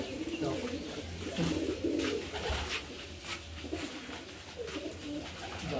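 Kalanka pigeons coo softly in low, repeated rolling phrases, with faint rustles and scattered chirps around them.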